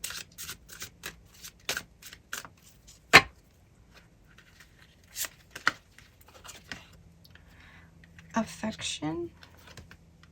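Tarot cards are handled and shuffled by hand: a scattered series of sharp, crisp card clicks and snaps, close by and fairly quiet, with a brief denser flurry near the end.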